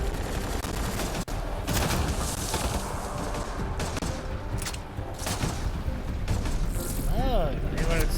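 Turret gunfire in Mass Effect Andromeda rattles in dense rapid bursts amid continuous combat noise, with a player talking over the shooting.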